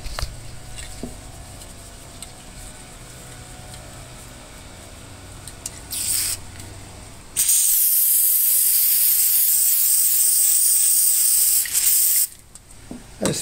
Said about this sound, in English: I spray it on the board.